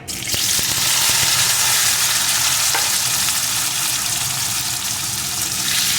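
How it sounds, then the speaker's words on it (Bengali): Potato pieces frying in hot oil in a pan, a loud, dense, continuous sizzle after they drop in, with a few stirring clatters early on. "একটু ভেজে নেব আলুটা"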